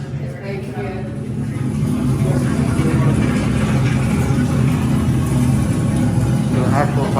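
Steady machinery drone in a replica of the Titanic's engine room at a museum, a continuous low rumble and hum with a loud, even level throughout, with voices mixed in the background.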